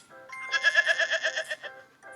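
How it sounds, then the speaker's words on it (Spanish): A goat bleats in a single wavering, quavering call lasting over a second, fairly close and alone, with a brief softer tail at the end. "las cabras"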